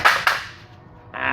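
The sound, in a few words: hubcap being pulled off a car wheel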